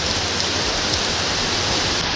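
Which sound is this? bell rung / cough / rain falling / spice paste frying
rain falling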